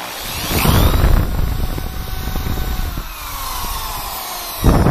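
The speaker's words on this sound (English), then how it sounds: "drill it out so when I hammer the nails in, the wood doesn't split." A power drill whirs continuously under load for several seconds, drilling pilot holes in wood for nails while building a carport roof, close by, with a brief louder burst at the end as it revs.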